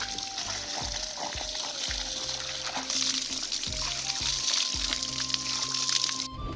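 A swollen mountain stream rushes along, a continuous loud wash of flowing water in the hills with a steady background hum and no talking.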